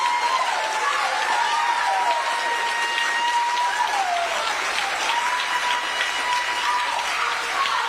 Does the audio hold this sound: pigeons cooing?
no